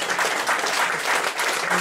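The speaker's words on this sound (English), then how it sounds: "Give them a round of applause and go back to the audience." A room full of people claps for volunteers at a comedy mind-reading show, with a short burst of dense, even applause and a faint voice underneath.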